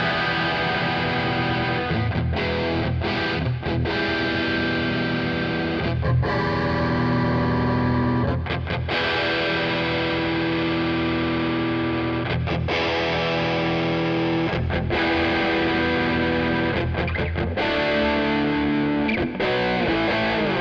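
Heavily distorted electric guitar through a Two Notes Genome 5150 amp simulation, dense chugging riffs and sustained chords with brief stops, loud and continuous without talk.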